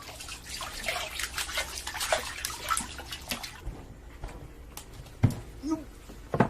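A woman washes spring-salted fish in water, giving splashing and sloshing for several seconds, then quieter drips and a few soft knocks.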